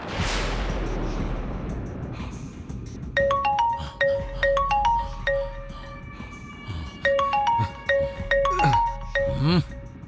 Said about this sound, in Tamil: ஆண்டி, போன் ரிங் ஆயிட்டு இருக்கு.